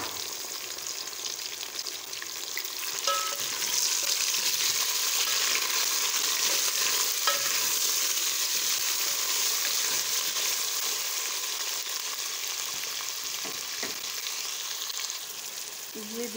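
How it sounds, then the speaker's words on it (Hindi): Chicken fries in a pan with browned onions and garlic, a loud, steady close-up sizzle and crackle that holds throughout, with a few faint stirring clinks. "ये देखिए चिकन को हमने हल्का फ्राई कर लिए।"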